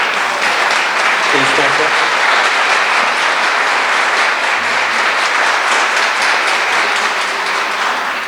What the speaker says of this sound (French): Oui, vous pouvez vous lever, on va vous applaudir.